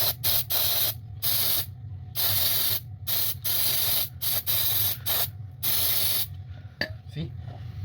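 Carb cleaner sprays onto an oxygen sensor in loud, hissing bursts of varying length separated by brief pauses, close to the microphone, ending with a few faint mechanical clicks.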